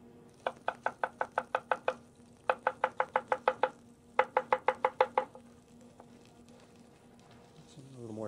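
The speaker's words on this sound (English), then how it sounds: "Celery, we want to peel." Celery stalks being peeled in a kitchen, a quick series of crisp rhythmic scraping strokes in three bursts of about eight, close and clear, followed by quieter handling.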